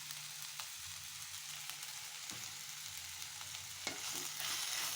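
Small dried fish fry in a pan of oil with a soft, steady sizzle, joined by occasional light scrapes and taps of a stirring utensil, quiet and close, with no talk.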